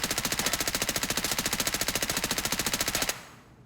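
A modded MPX submachine gun in Escape From Tarkov firing full auto: a loud, unbroken stream of rapid, evenly spaced shots for about three seconds, then a short echoing tail as the burst stops.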